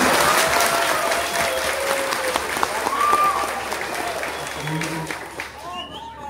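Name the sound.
standing audience applauding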